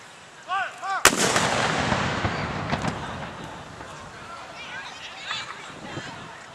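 A Civil War cannon fires a single sharp, booming blast at a Confederate Memorial Day salute, with a long rumbling echo afterward, and voices are heard before and after the shot.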